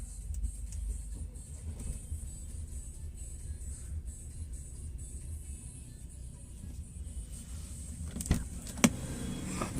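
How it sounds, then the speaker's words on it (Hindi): An Audi A6 with a faulty air suspension system runs at a steady idle, a low, even engine rumble close by, with a couple of faint mechanical clicks near the end. "अब गाड़ी को स्टार्ट करते हैं"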